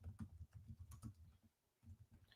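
Faint, steady clatter of typing on a computer keyboard in a quiet room, rapid key taps with a brief pause before resuming.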